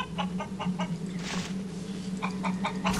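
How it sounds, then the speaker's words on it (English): A chicken clucking in the video game Fallen Earth, repeated short clucks in a steady rhythm over a constant low game hum, with a brief noisy burst in the middle. "I can't kill this chicken"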